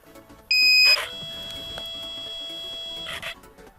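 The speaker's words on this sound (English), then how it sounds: "otherwise it would just keep beeping at us" An RC transmitter for a Ritewing Spec Wing FPV plane gives a loud electronic beep close by, followed by a quieter sustained tone that fades out after a few seconds.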